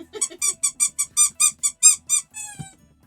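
A posh shoe-shaped dog toy squeaks about a dozen times in quick rhythmic succession, bright and close, ending with a longer drawn-out squeak and a soft thump.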